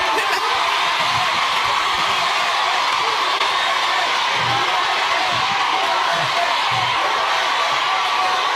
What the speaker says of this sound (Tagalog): Oh, sigawan po sila na sigawan.